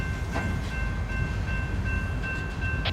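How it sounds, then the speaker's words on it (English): A Union Pacific freight train rolls through a rail yard near the original main line, giving a steady, continuous rumble of railcars with faint squeal tones close by. "So that train just come from the original main line."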